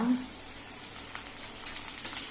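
Chopped capsicum tossed into a pan of cooked onions for a Goan chicken chili fry gives a steady, close sizzle and fizzing crackle with a soft stirring scrape, a brief dense hiss with no speech.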